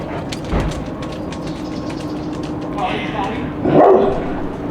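A dog barks at people passing on the street, sharp barks and a yip rising over a steady background murmur, with talking nearby.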